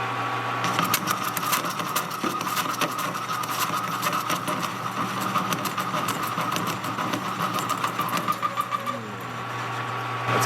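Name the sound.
lathe cutter cutting out old threads on a spring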